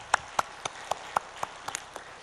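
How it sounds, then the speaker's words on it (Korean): A church congregation applauds, with sharp claps landing in a quick, fairly even rhythm, close and distinct rather than a dense roar. "하나님께 영광의 박수 올려드립시다."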